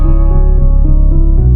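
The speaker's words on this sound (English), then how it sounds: "we're bringing in that same preset on Nexus, the PN Nexus Grand Piano Soft, and it's playing these ascending notes" A Nexus Grand Piano Soft preset steps through a brief run of ascending notes inside the loud, dense backing of a pop song.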